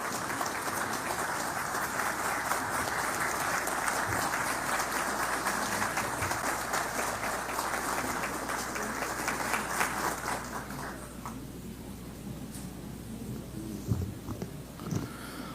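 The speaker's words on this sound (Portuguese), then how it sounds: "eu quero uma salva de palmas ao nosso querido irmão Edson." Steady, dense applause from an assembled audience at an honoring ceremony in a council chamber, a continuous wash of many hands that fades somewhat toward the end, with a few louder individual claps near the close.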